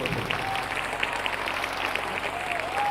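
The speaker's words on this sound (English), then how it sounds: "Give them another hand clap." An audience claps steadily and continuously for a gospel choir performance, a dense patter of many hands, with a faint murmur of voices beneath.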